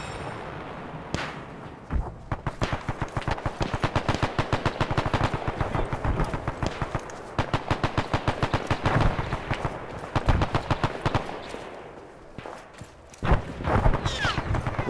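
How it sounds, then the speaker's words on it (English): Sustained bursts of automatic gunfire in the ARMA 3 Pacific Solomon Islands setting, rapid repeated shots with brief pauses between strings, loud and close, with no talking over them. "There's some more fire coming from the south again."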